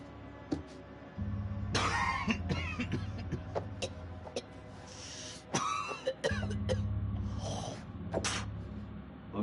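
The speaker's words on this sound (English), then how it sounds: "That's a nasty cough." A character in the game The Dark Pictures Anthology: House of Ashes lets out a series of rough, wet coughs and throat-clearing bursts, spread irregularly over a low engine-like rumble.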